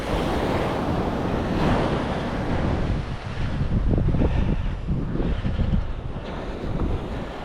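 Ocean surf rolling onto the beach at the Wright Brothers National Memorial, loud continuous wash of waves mixed with heavy wind buffeting the microphone, no talking.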